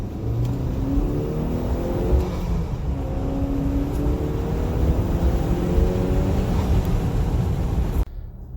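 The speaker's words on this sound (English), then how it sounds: "We're gonna go take a quick drive, give it some boost, see how it behaves." A Range Rover Evoque turbo engine accelerating under boost while driving, a rising drone climbing through repeated gear pulls with faint whir, steady and close until it cuts off near the end.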